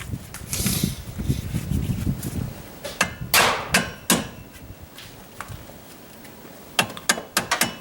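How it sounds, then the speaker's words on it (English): A hammer taps a strut bolt through the knuckle while replacing struts on a 2004 Pontiac Grand Am, giving a series of sharp, close metallic strikes at irregular spacing amid light rustling. "take your hammer here and tap it through"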